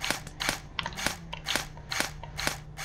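A Nerf gun firing in the game Amazing Frog, a steady series of light, sharp snapping shots about every quarter second over a low hum, fairly close and crisp.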